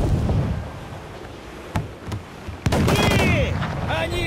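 Sharp gunshot cracks ring out over a noisy naval battle in Assassin's Creed IV: Black Flag, followed by a heavier booming cannon volley with whistling tones and a voice shouting under it.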